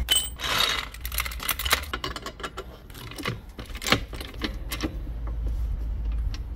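Metal tools clink and jangle while being carried for a tyre change on a Mercedes-Benz CLS 55 AMG W219, irregular close clatters and knocks spread across the moment.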